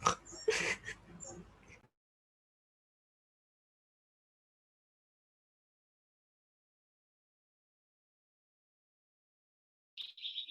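A person imitates pig oinks: a short burst of snorting grunts right at the start, then a long silence and a brief high-pitched tone near the end.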